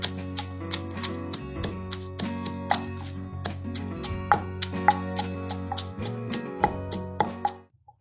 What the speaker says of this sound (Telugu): అది ముందు రోట్లో వేసి దంచేద్దాం.